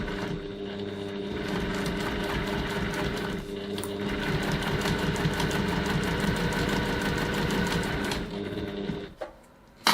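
A sewing machine stitches the sides of a fabric bag in one long, steady mechanical run, loud and close, with a rapid needle rhythm that stops abruptly near the end.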